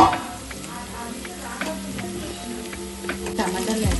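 Onions sizzle steadily in a hot pan for goat head curry while being stirred, a close, continuous crackle with occasional scrapes and a few quiet voice sounds in the background.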